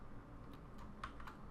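Quiet, close keystrokes on a computer keyboard, a handful of soft clicks tapped at an irregular pace over faint background hum.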